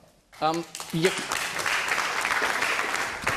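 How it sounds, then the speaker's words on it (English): Audience applause breaks out at a televised political debate, swelling after a brief spoken phrase and holding as a steady wash of many hands, moderately loud and even. "Applause for the gentleman."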